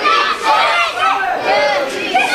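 A sellout wrestling crowd chants loudly in an indoor arena, a dense roar of many voices rising and falling in waves with shouted cries, filling the space continuously and close.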